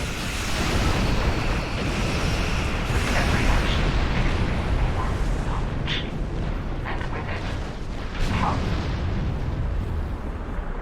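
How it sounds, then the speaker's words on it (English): A starship blows up during a space battle in Star Trek Online, a dense rumbling roar of explosions and weapon fire that runs loud and unbroken, with brief bright bursts standing out over the constant din. "That ship just blew up there."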